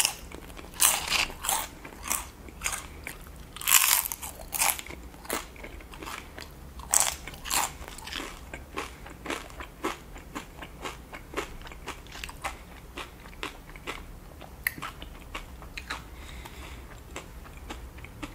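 Nacho chips with animal style sauce and cheese are crunched in close, repeated bites, with sharp crackly chomps spaced through a quiet eating session and no talk.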